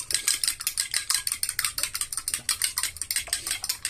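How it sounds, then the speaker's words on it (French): Eggs are beaten in a bowl with a small fork while making a croque madame, giving a fast, even run of light clinking strokes close up, with no voices. "œufs que je vais mélanger avec une petite fourchette"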